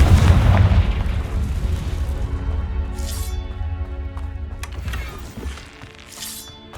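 A spell-blast explosion in a fantasy video game: a loud, heavy boom opens and rumbles off over several seconds, with a couple of lighter crackling bursts following.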